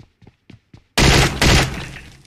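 In the video game PUBG Mobile, after a few soft knocks, a loud burst of rapid gunfire erupts, then a second burst follows, fading out with echoing tail.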